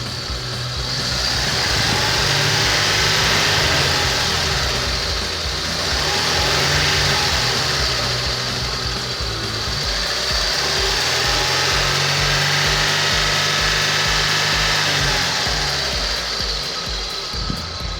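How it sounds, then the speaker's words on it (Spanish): A Chevy TBI (throttle body injection) car engine revs up under acceleration, rising and falling in two broad surges before settling back toward idle, loud and steady throughout with no talking. "Vamos a acelerar el vehículo"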